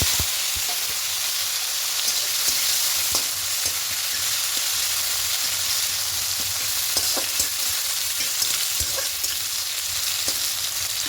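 Chopped onion and tomato fry in oil with cinnamon, cardamom and cloves, giving a steady close sizzle and hiss with occasional light clicks of stirring, unbroken by any talk.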